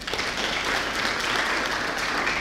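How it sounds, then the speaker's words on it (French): Audience applause at the official launch of SALIBA, a national book policy event, a steady wash of clapping from a seated crowd filling the room evenly and continuously without a break. "je vous demande d'applaudir pour ce travail-là"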